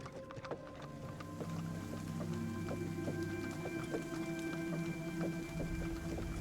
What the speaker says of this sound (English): There seems to be incessant downpour everywhere.